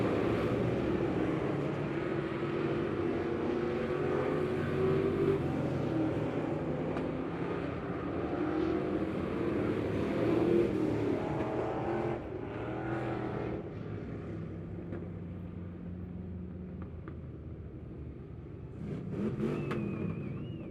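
Several race cars roar through the final lap at Lebanon Midway Speedway, a dense, steady engine drone that holds throughout and swells near the end.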